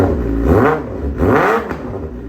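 Suzuki GSX-R motorcycle engine, freshly fitted with new spark plugs and air filter, revs up twice in strong rising-and-falling sweeps, loud and close, with steady idle between the blips.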